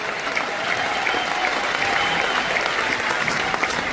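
An audience at an indoor corporate program claps together in sustained, even applause, a dense close wash of hand claps that runs throughout without pause.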